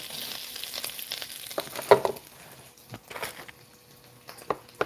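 Bacon sizzles and crackles on a grill as a steady close frying hiss, broken by a few louder pops and spits, with no talking.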